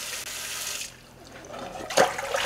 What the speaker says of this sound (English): I'm literally just rinsing them and I've got our strainer here.